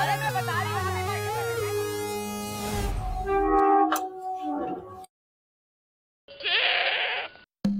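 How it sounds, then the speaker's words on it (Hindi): A male goat bleats up close in a loud, wavering, drawn-out call. After a brief silence, a second, shorter bleat follows. "ये बकरा किसका है?"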